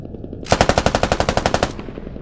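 A helicopter door gun in a video game fires one rapid burst of about fourteen loud, evenly spaced shots lasting just over a second, followed by a brief fading echo.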